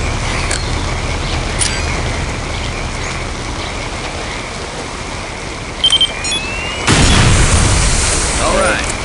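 A loud boom of a planted bomb explosion in Counter-Strike: Condition Zero Deleted Scenes erupts partway through over constant rain-like noise and rumble, with brief electronic beeps beforehand.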